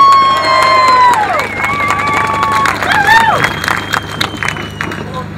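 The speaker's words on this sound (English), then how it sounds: "round of applause to John Rees" A rally crowd against military intervention cheers, shouts and claps loudly, with overlapping voices and whistle-like yells rising over a steady wash of applause throughout.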